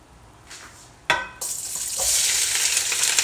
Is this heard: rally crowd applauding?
no